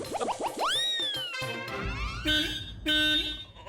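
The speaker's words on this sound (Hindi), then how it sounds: "हॉर्न की आवाज सुनाई दे रही है?" An auto rickshaw horn honks in a few short, nasal, tonal blasts near the end, preceded by springy sliding tones, fairly loud with no talking over them.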